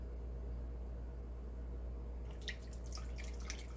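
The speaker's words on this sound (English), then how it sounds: "Now I'm going to strain it through the strainer." Turkey juice for homemade gravy dripping through a kitchen strainer, a faint low hum for the first two seconds, then a scatter of small, quick drips and trickles close by with no talking.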